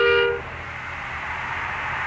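A car horn in a driving video game with toll gates gives a short honk at the very start. It then fades into a steady engine and road drone that carries on to the end.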